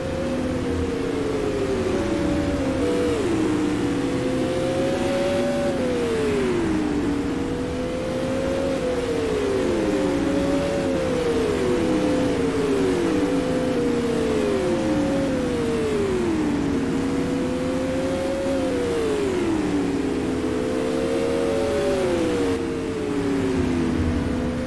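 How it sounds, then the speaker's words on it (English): Race cars lapping at Oswego Speedway during the Jim Shampine Memorial, a dense continuous engine roar with repeated rising and falling pitch sweeps as cars pass, loud and steady throughout. "like Callahan struggling with a loose race car"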